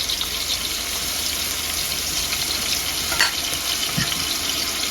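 Garlic paste and ginger paste frying in hot oil for a wedding-style Bengali mutton curry, a dense continuous sizzling hiss with a couple of faint knocks, no talking.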